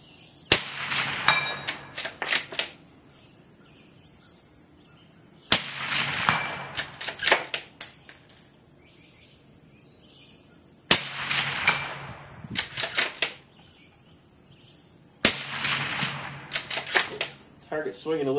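Shots from a Remington 700 rifle in a modular chassis ring out on steel targets, four sharp loud cracks spaced several seconds apart, each followed by quick clanging impacts and ringing.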